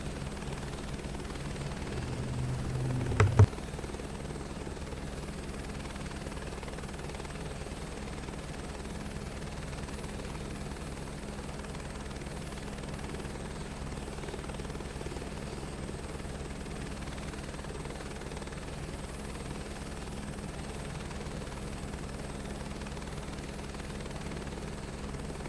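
A helicopter in Flight Simulator 2024 flies with throttle raised, a steady, even rotor and turbine drone holding constant throughout, with a brief louder bump early on.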